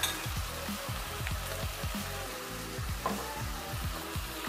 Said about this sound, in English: Now give them a quick stir.